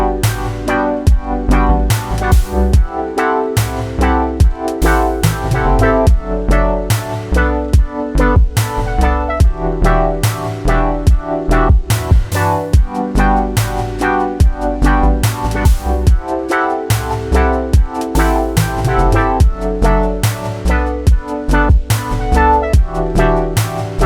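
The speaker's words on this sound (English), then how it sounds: "next we can use the yellow synth as bass synth" Funky subtractive-synth bass line playing a busy pattern beyond root notes beneath a chord progression, loud and steady with punchy rhythmic attacks and no talking.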